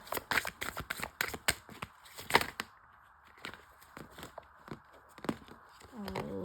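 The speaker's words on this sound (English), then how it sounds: "I'm gonna shuffle once more for what you should avoid." Tarot cards being shuffled by hand, a quick run of crisp riffling flicks and soft slaps, close and fairly quiet, with a short lull midway and a voice entering at the end.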